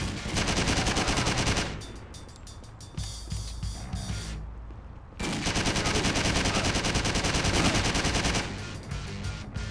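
Sustained automatic gunfire in the crime driving game Driv3r rattles loudly in rapid bursts, pauses briefly for a reload with a short gap of near silence, then resumes with another long, dense volley.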